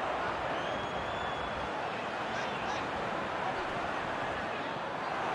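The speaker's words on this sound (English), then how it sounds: "the crowd clearly like what they just saw" Stadium crowd noise from a PES football video game, a steady dense roar of spectators through a Liverpool versus Real Madrid Champions League match, with a faint whistle-like tone drifting above the wash.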